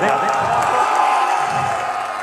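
Audience at an all-India mushaira poetry gathering in Bihar breaks into sustained applause and cheering, a dense, even roar of clapping with whoops that holds steady throughout.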